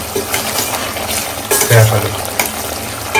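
Chicken fries in a pan with steady sizzling, while a spoon scrapes and clinks against the metal during stirring, close and loud, with no talking.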